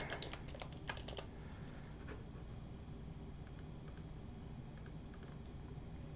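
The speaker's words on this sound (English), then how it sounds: "I'll double click this" Quick pairs of sharp computer-mouse clicks, faint and close, separated by pauses over a steady background hiss.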